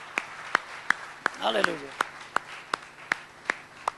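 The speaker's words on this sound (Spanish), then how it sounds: "¿Por qué no le damos un aplauso grande al Señor" A church congregation claps in a steady, even rhythm, about three sharp claps per second, while a man calls out briefly midway over the applause.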